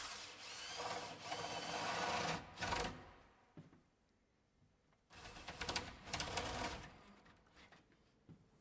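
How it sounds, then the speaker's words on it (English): Power drill boring a spindle hole through a timber door for a mortise latch, two sustained bursts of drilling at close range separated by a quieter pause, loud and alone. "Drilling the hole from both sides of the door will prevent breakout as the drill bit exits the timber."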